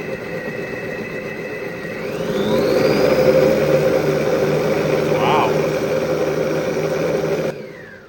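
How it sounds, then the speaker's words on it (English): A smart all-in-one food processor and auto cooking machine whirs steadily, then ramps up to a higher-pitched, louder spin and holds there, close by, before cutting off near the end. "We don't use a lot of food processors, so I don't know how fast that's supposed to spin. Let's crank it up."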